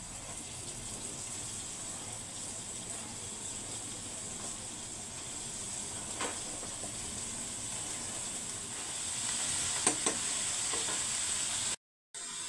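Shredded cabbage stir-frying in a pan with chicken skin makes a soft, continuous sizzle and hiss with faint scraping stirs, cutting out briefly near the end.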